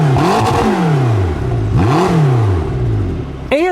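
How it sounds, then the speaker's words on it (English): A McLaren GT luxury grand tourer revs hard twice, its exhaust note sweeping up and falling back in loud, close blips, followed by a brief sharp burst near the end. "The exhaust note."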